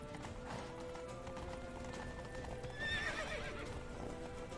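Hooves of a galloping horse in The Witcher 3 clip-clop in a quick, steady rhythm, joined midway by a sharp whinny, close and fairly quiet throughout.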